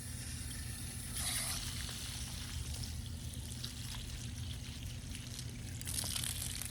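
Water trickles steadily from a Green Mount garden hose set to its soaker spray, a soft continuous hiss close by, briefly swelling louder at the start and near the end, with no talk.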